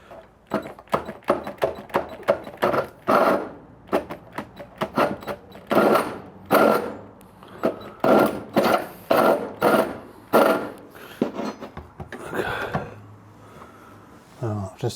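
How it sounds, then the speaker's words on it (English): A drill bores a very large hole for a Thetford toilet ventilator kit after a pilot hole, with a series of close, loud, rhythmic grinding bursts that start and stop repeatedly over several seconds. "time to drill the very large hole"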